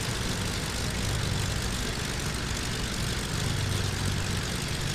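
Twin piston engines of a Beechcraft Baron 58 in Microsoft Flight Simulator X throttling down, a steady loud propeller drone with a low engine hum and faint rise and fall, no talking.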